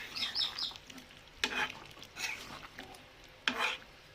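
Chicken curry stirred in a pan after garam masala goes in, soft sizzling under a few sharp scraping strokes of the spoon against the pan, fairly quiet and close.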